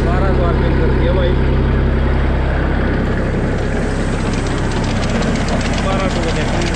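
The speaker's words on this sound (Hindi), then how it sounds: "अब इसके आरपीएम कर 1200 कर एक बार इसके, 1200 आरपीएम कर दिया भाई" A 1998 Massey Ferguson 35 tractor engine running steadily at about 1200 RPM, a loud continuous low diesel drone with a constant throb. Its tone shifts slightly partway through.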